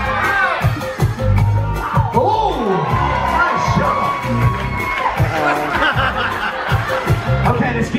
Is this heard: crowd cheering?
yes